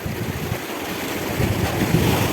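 Sea waves surge and wash loudly over rocks on Wong Ma Chau Island, Sai Kung, Hong Kong, with a rushing, broadband roar that swells toward the end, mixed with some wind noise.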